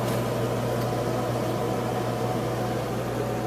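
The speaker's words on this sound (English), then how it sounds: "Microwave that works." A microwave oven aboard a 1990 Bayliner 4588 boat runs with a constant low hum and airy whir, steady and unchanging throughout.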